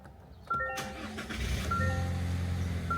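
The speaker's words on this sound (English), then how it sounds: "And I started the truck." A Toyota Tacoma truck engine cranks and catches abruptly, then settles into a steady, close idle rumble, with soft dashboard chimes ringing on and off and no talking.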